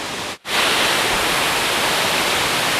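Sarika waterfall in Nakhon Nayok, Thailand, rushes in the rainy season in mid-June with heavy flow, a loud, steady roar of falling water filling the space after a brief dropout at the start.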